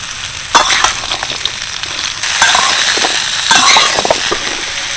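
Turmeric-coated raw mango pieces fry in a full kadai for pickle, a loud, dense crackling sizzle broken by scraping stirs and clattering bursts of the spoon, with no talk.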